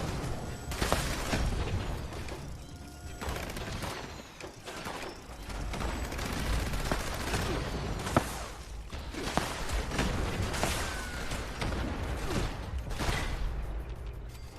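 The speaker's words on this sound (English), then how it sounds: "My Gauss minigun." A Gauss minigun fires in Fallout 76 amid a continuous barrage of rapid shots and booming impacts, sustained and dense at moderate volume throughout.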